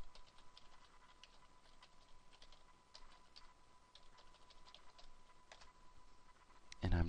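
Steady typing on a computer keyboard while entering text into a Microsoft Word document on a Windows 7 desktop, a quiet, continuous patter of close key clicks with no voices and a slightly louder burst at the end.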